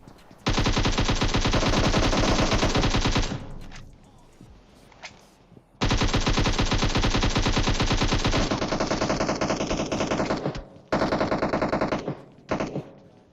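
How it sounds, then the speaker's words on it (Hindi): Automatic gunfire in the shooter game PUBG comes in two long, loud, rapid bursts separated by a short gap, then a few shorter bursts and single shots trail off. "मैं भैया लेफ्ट में गोली चलाए जा रहा हूँ, पूरी गोली पेल दी वहां पे।"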